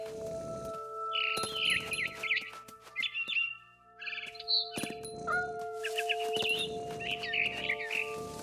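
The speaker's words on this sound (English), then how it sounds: "Then I heard chirping outside my window. It was a barn swallow going back to her nest." Barn swallow chirps in What Remains of Edith Finch, bright repeated twittering bursts in several clusters over a steady low hum, close and clear with no talking.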